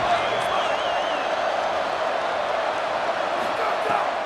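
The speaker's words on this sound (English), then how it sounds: "The Red Raider crowd rising to the occasion to help its defense on 3rd down" A Red Raider stadium crowd at a Texas versus Texas Tech football game roars steadily and loudly on a third-down defensive play, a dense sustained wall of cheering and shouting with a commentator's voice faintly underneath.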